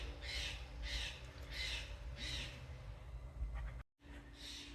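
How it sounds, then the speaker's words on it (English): Birds squawk outdoors in the background, four evenly spaced harsh calls followed by one more after a short gap, faint under a steady outdoor hum. "all the birds and squirrels and stuff are going nuts back there"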